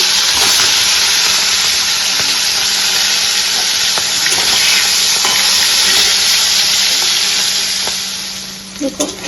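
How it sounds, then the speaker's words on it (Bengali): Hilsa fish heads frying in hot oil in a pan, with colocasia greens being cooked, give a loud, steady sizzle that holds throughout and fades near the end, with a few faint clatters. "মাথাগুলো ভাজা হয়ে গেছে"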